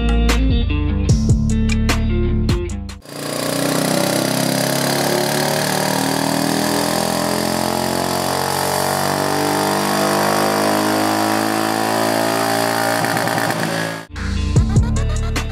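Royal Enfield Meteor 350 single-cylinder motorcycle engine runs on a dyno, a loud, dense, sustained roar that holds steady for about eleven seconds, with music-like tonal passages before and after it.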